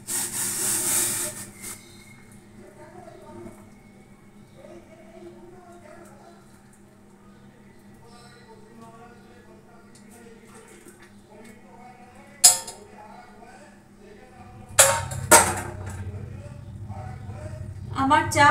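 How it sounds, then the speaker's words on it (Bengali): Tea is strained in a home kitchen after the gas stove is switched off. Faint background hum gives way to a few sharp metallic clinks of utensils and cups, with a voice talking nearby. "গ্যাস ওভেনটা অফ করে দিচ্ছি, এবার চাটা ছেঁকে নিচ্ছি।"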